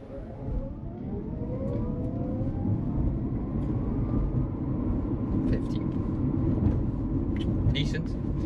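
A 2021 Dacia Spring electric car pulls away from a standstill, its rising whine climbing in pitch over a steady road rumble, while a person talks inside the cabin.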